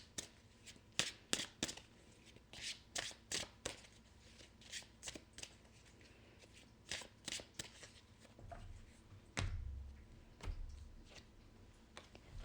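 Tarot cards shuffled by hand before one is drawn, a quiet run of crisp riffling and flicking bursts in uneven rhythm, close and faint, then a few soft handling thumps near the end.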